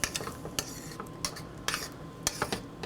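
Charcutière sauce with gherkins is stirred in a pan, and a utensil clinks and scrapes against the metal in a run of irregular, quiet taps and swishes for a few seconds. Nobody speaks.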